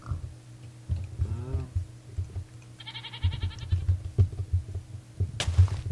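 A goat from the video game Minecraft bleats in short nasal calls amid game sounds, with a low rhythmic thumping running underneath.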